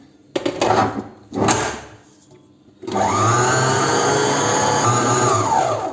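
Electric mixer starting on homemade bazlama bread dough: two short motor bursts, a brief pause, then a long steady whirring drone that holds loud and even to the end.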